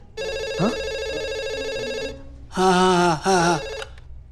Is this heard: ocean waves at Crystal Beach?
no